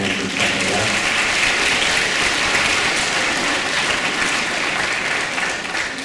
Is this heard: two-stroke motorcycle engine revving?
no